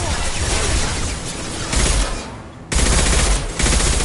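Sustained gunfire in the Mass Effect 2 video game: dense, loud automatic bursts roar almost without pause, with a brief dip before a fresh volley kicks in.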